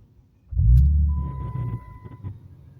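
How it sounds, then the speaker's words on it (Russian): A Dodge car engine cranks and catches with a deep rumbling start, then settles into a steady idle while a thin electronic tone sounds briefly over it. "Заводим машинку."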